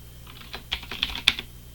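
Someone typing a command on a computer keyboard: a short burst of about half a dozen quick, crisp key clicks, close by and fairly quiet.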